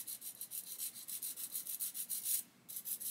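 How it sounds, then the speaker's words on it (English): Sandpaper rubs back and forth on a small plastic part from a 1/32 scale HKM A-20G Havoc model kit, producing steady rhythmic scratchy strokes up close, with a brief pause near the end. "just give that a bit of a sand"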